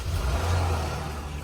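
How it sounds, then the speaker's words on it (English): A Jeep Gladiator with CANBUS faults tries to start, and its engine turns over with a steady, loud mechanical whir close by. "We can turn the key on and you can try to start it."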